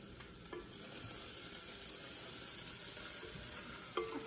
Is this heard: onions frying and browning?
yes